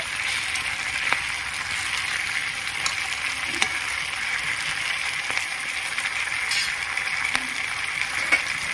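Amudi fish wrapped in banana leaf frying in a pan, a steady close sizzle with faint crackles and occasional small pops, no talking.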